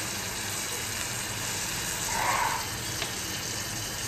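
Garlic paste and turmeric sauté in a pan for a Kolkata-style egg devil, giving a soft, steady frying hiss with a faint brief swell midway.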